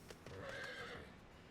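A horse in Final Fantasy XIV gives a short, clear whinny, rising and wavering for about a second, with faint hoof clops around it and no talking.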